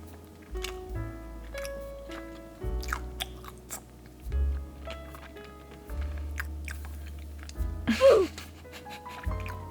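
Biting and chewing a bowl of food topped with almonds, with soft crunches and mouth sounds recurring through the stretch, a low steady hum underneath and a few scattered clicks.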